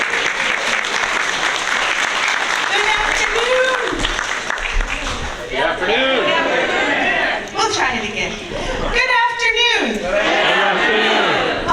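A Sitka crowd at a New Archangel Dancers community dance performance gives dense, sustained applause, with cheering and chatter mixed in throughout.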